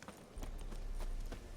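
Horse hooves clip-clopping in a fast, steady rhythm in The Witcher 3 video game, faint and without talk, as a horse runs through woods.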